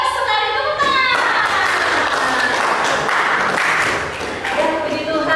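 Classroom applause from students rings out steadily across the whole stretch, a dense patter of clapping that eases slightly near the end.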